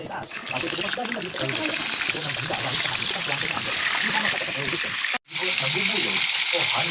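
Steady crackling sizzle of food frying in a pan, loud and continuous, with a voice talking over it and a brief break near the end.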